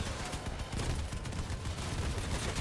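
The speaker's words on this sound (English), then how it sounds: "Oh, so many rockets at us." Rapid bursts of gunfire and rocket blasts in a Crossout vehicle combat battle during the Big Chase PvE event, a dense continuous barrage with steady loudness throughout.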